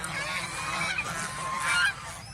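Several geese on a goose farm honk loudly and continuously, their calls overlapping in a dense, noisy chorus close by.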